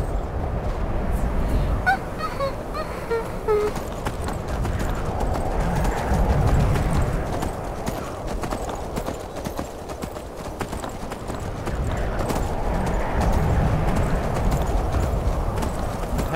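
Horse hooves in Skyrim clip-clop in a steady trotting rhythm, continuous and fairly close, with faint game ambience and occasional bird-like honks in the background.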